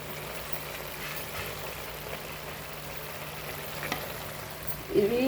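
Palak paneer masala fries in oil with a steady, close hiss and light crackle, and a soft stir or scrape near the end.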